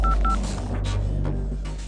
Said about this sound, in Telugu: ముందు నువ్వు హోమ్ మినిస్టర్కు ఫోన్ కొట్టు.